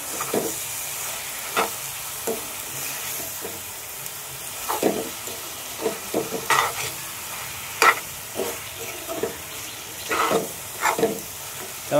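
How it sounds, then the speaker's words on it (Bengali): Masala for a village-style chicken posto is stirred and fried in a pan: a low bed of sizzle punctuated by repeated irregular scraping and clacking strokes of a spatula, close and distinct, with no talking. "এবং ভালো করে কষবো।"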